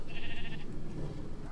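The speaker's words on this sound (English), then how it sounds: "Now I have a sheep in here." A single sheep in the Minecraft video game lets out one short, clear bleat near the start, followed by quiet game ambience.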